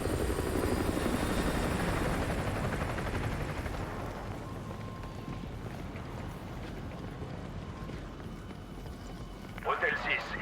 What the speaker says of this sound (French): Un hélico approche.